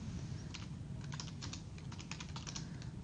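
Fast, close keyboard typing at a Windows command prompt, used to telnet into a network device: a steady run of crisp key clicks with no talk.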